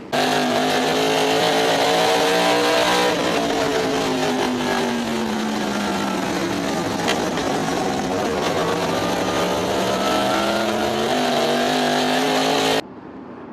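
Stock cars race at the Chemung Speedrome, a pack of engines roaring continuously and loud for about thirteen seconds, rising and falling in pitch as they pass, with an announcer talking over it.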